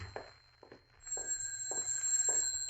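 A telephone rings in an old radio drama, a steady electronic-sounding tone running under the scene with bursts of other sound, moderately loud.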